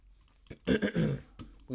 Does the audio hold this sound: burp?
yes